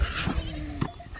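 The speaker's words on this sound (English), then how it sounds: "Just with a goat." A goat gives a short, close bleat lasting under a second amid rustling and bumping noise outdoors.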